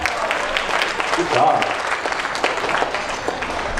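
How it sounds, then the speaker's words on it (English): Audience applause at a magic show, a steady wash of clapping that swells mid-clip and holds, with a voice briefly speaking over it. "Give her a round of applause."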